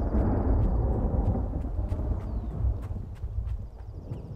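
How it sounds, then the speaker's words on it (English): Loud thunder rumbles low and heavy on a stormy day near an inlet, rolling on without a break before easing slightly toward the end. "God, that roar. That's so loud. Thunder."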